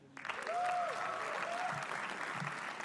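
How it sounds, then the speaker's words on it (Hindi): Warm audience applause breaks out at a comedy roast for Chirag Panjwani, swelling quickly into steady clapping mixed with a few cheers and whoops. "चिराग पंजवानी के लिए तालियां"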